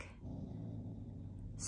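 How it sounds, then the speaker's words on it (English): A pet dog growls low and steady for over a second, a quiet rumbling close by in a room, with no talk over it. "you can hear my dog growling at themselves"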